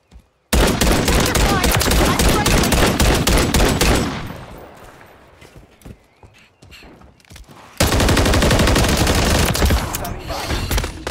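Dense automatic gunfire bursts from a Call of Duty Modern Warfare 3 match, loud and sustained, dropping away for a few seconds before another heavy volley resumes.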